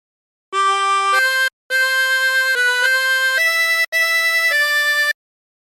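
A 20-hole tremolo harmonica plays the opening phrase of Hark the Herald Angels Sing, a run of clear, reedy sustained notes in three short groups separated by brief pauses, played alone.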